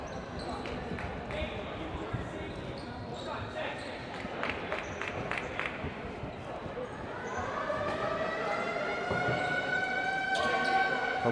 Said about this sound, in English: The Lakers have their own siren in the building.